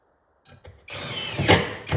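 A power drill drives a screw into an OSB shop wall, a short whirring burst that steps up in speed with a brief ratcheting catch, close and fairly loud.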